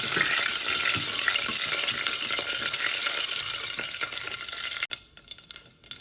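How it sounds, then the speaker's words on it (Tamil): Fenugreek seeds fry in a pan for vaddu kathirikai kulambu, a steady close crackling sizzle. It ends with a sharp clatter and a few softer scraping stirs. "வெந்தயம் வதக்கி கொடுப்போம்"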